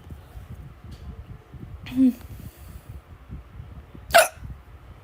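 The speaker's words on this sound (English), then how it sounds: "Oh, I got the hiccups." Two abrupt hiccups, a few seconds apart, are heard close up over a low background murmur, each a short sharp burst with a quiet gap between them.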